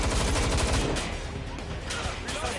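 Gunfire from a suspect in Watch Dogs, a dense rattle of close shots running throughout, with some background game sound mixed in.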